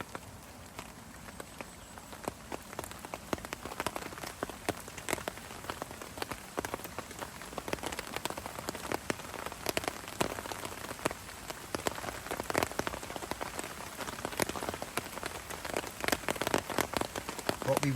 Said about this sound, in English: Oh, here comes the rain again.